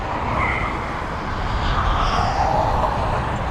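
A Ryanair airliner at East Midlands Airport roars with a steady, broad engine rumble and hiss, loud and constant throughout, with no voices over it.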